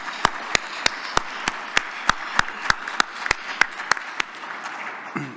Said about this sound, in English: why don't we give Jack a big round of applause